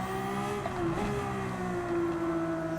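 A race car engine in a racing video game holds a steady, smooth drone at fairly constant revs, moderately loud and continuous with no talk over it.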